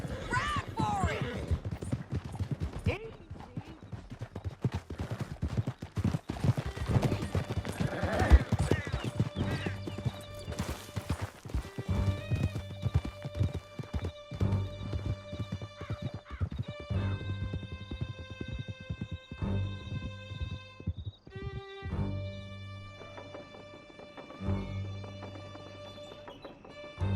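Horses gallop in Red Dead Redemption 2, a quick stream of hoofbeats with a whinny and game music, under occasional voices.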